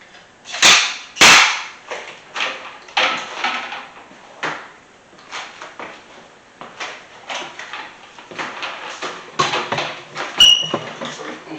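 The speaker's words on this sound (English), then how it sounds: "So let's get the nail gun ready." A nail gun drives nails while window trim is fitted: two loud, sharp, close shots early on, a single crack near the end, and quieter knocks and handling noises between.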